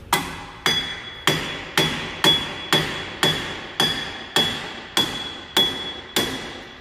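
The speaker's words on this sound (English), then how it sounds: "sometimes you got to take a hammer and hit them" Eleven evenly spaced hammer blows strike metal while replacing a 2009 Toyota Camry Hybrid rear wheel bearing, each a sharp ringing clang that fades quickly, in a slow steady rhythm.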